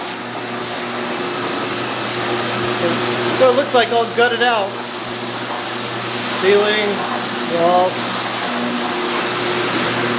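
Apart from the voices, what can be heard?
floor scrubber running in a laundromat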